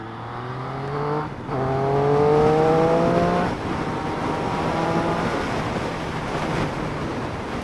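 A motorcycle with a quick shifter rides along, its engine note climbing in steps, cutting briefly at each quick upshift and rising again, under steady wind rush.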